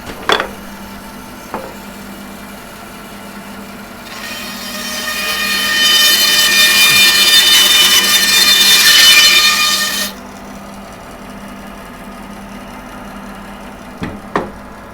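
A saw cuts fiddleback-figured wood into disc blanks for lathe turning. The cut is a loud, steady buzzing whine that lasts about six seconds, with a low hum and a few sharp knocks before and after.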